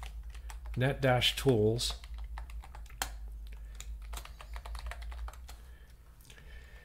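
Keyboard keys tapped in a quick, uneven run while someone speaks a short phrase near the start, followed by softer scattered keystrokes at close range over steady low hum.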